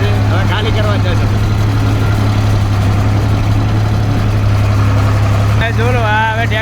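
A tractor engine runs at a steady idle, a loud continuous low hum close by, while people talk over it outdoors.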